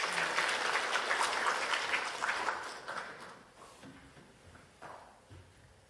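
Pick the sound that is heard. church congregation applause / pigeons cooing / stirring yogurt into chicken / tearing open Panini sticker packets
church congregation applause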